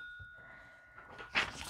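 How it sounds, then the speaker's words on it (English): A small bell rung once at home, a clear ringing tone that fades over a second before soft handling noises follow. "and we get to ring our bell"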